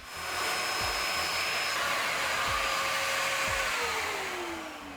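A vacuum cleaner runs continuously while cleaning the dusty faceplate of a smoke alarm, a loud steady whooshing roar with a faint whine that rises in at the start and eases off at the end, with no talking.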